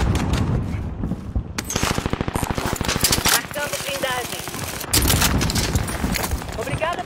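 Rapid automatic gunfire in the video game Call of Duty Warzone, loud bursts of dense rattling shots through most of the stretch, with brief pauses, mixed with game sounds and players talking over it.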